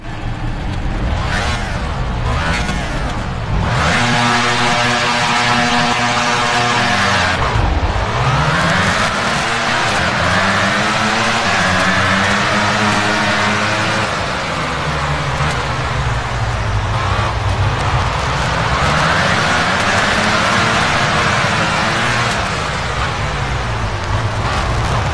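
Several racing motorcycle engines idle and rev on the starting grid at Jerez in a MotoGP video game, with a loud, continuous droning roar whose pitch rises and falls in long sweeps.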